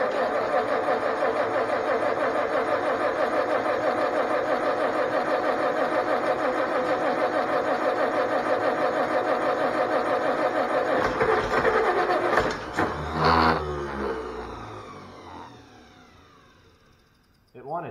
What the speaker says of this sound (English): 1940s Farmall A starts to pull the gravity wagon of ear corn?